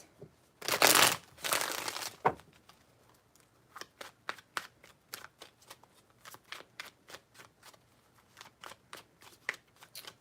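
Tarot cards being shuffled close up: a couple of loud riffling bursts at the start, then a run of quick, crisp card flicks and taps, quiet and without speech.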